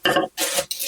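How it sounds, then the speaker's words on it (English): Spooning cooked sausage out of a black cast-iron skillet into a bowl: three quick, close metallic scrapes and clinks of the spoon against the pan, each separated by a brief gap. "I'm going to take one of my bowls and I'm just going to put some of this sausage in it"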